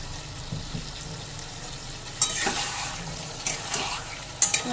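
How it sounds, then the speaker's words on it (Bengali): Hot water poured into a pan of fried mourala fish with boiled potatoes gives a soft, steady sizzle and bubbling, broken by a few sharper splashes and clinks, fairly quiet. "এবার ওই ভেজে রাখা মোরলা মাছগুলোকে আমি এর মধ্যে দিয়ে দিচ্ছি। দিয়ে দেব সামান্য একটু গরম জল।"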